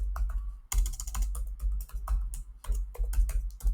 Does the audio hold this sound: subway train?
no